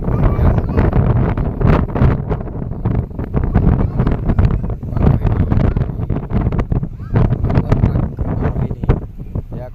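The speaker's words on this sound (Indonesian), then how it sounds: "kita lagi berada di kapal laut ya" Strong wind buffets the microphone on the open deck of a sea ferry crossing from Merak harbour toward Lampung, a loud continuous roar that gusts unevenly, with a voice faintly under it.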